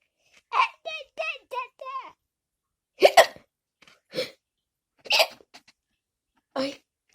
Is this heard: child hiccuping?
yes